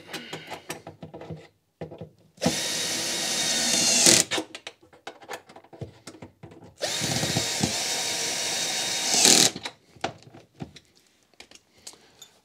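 A power drill drives screws into the cabinet of a home-built arcade machine, with two sustained whirring runs of a few seconds each that rise slightly in pitch as the screws seat, separated by quiet handling clicks and knocks.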